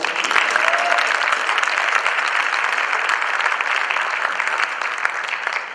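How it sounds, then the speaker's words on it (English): A crowd at an MLK celebration applauds loudly and steadily for the youth, a dense wash of clapping sustained for several seconds with a few cheers mixed in. "Can we give a round of applause for our youth today?"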